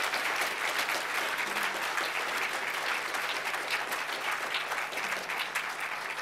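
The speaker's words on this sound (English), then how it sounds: "give a round of applause to Dr." Sustained audience applause fills a lecture hall after a keynote address, a dense, steady wash of clapping hands lasting throughout at even loudness with no voices above it.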